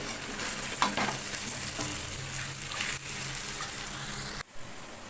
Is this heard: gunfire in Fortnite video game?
no